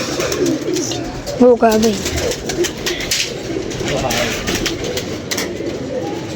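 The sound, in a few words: pigeons cooing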